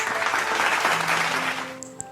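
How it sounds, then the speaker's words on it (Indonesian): A group at an online children's Sunday school service gives lively applause, a short burst of clapping that fades out with a couple of sharper claps near the end. "Tepuk tangannya yang meriah buat Tuhan Yesus."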